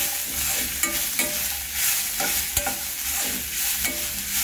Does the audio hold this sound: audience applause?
no